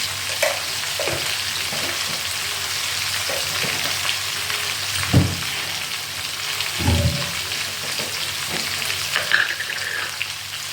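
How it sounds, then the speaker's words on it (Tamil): Cauliflower stir-frying in a pan with cumin powder and sambar powder: a loud, continuous sizzle with a few spatula scrapes and stirring knocks, and no talk. "இந்த பொடி மட்டும் போட்டு நீங்கள் கொஞ்சம் நேரம் பரட்டி விட்டுட்டே இருங்க"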